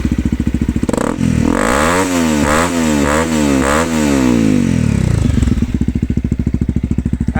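A 2016 Honda CRF 250 M motorcycle engine, close and loud, idling with a rapid thumping beat, then revved in a series of rising and falling pulses before it settles back to idle.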